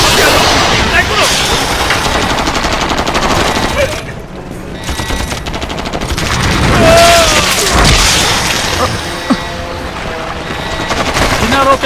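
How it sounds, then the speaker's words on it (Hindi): A battle scene in a Hollywood movie fills with rapid bursts of gunfire and booming explosions, loud and continuous and rising and falling in intensity, with shouted voices mixed in. "बिना रोके गोली चलाते रहो।"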